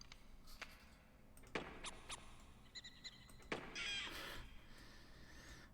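Crow cawing in a shareware hunting video game played from floppy disk, several sharp harsh caws spread across the clip alongside a few synthetic electronic tones, fairly quiet overall, no talking.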